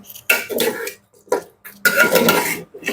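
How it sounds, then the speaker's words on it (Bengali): Chicken being stirred with salt in a metal cooking pot for biryani: a few sharp, close bursts of spoon-on-pot scraping and clatter, separated by short quiet gaps. "লবণটা দিয়েও খুব ভালো মতো করে এটাকে আমি মিক্স করে দিচ্ছি"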